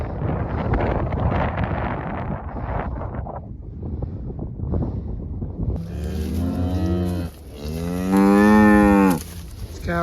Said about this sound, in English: These cows want something from me.